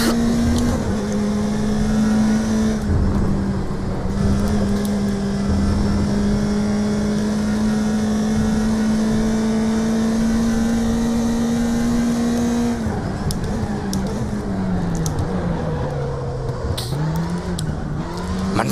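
Race car engines from the video game RaceRoom, WTCC touring cars at Laguna Seca, drone loudly and steadily, with one engine note holding, then dipping and rising as the car brakes and accelerates, plus brief tire squeal.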